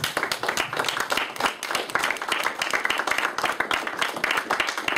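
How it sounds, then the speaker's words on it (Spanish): Church congregation applause, many hands clapping in a dense, continuous patter at close to moderate distance, holding steady throughout with no talking. "Denle un aplauso a Dios."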